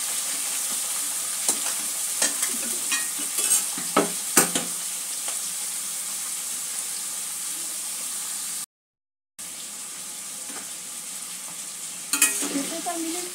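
Papaya pieces lightly frying in a pan, a soft continuous sizzle and hiss with occasional stirring clicks and scrapes, close and steady, with a brief silent gap near the end and no talking.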